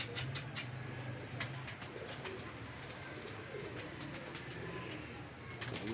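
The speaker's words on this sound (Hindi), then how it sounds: "कबूतर भी ठापे मार रहे हैं।" Pigeons coo in a low, repeated murmur, with brief sharper calls and clicks over steady background noise, no talk.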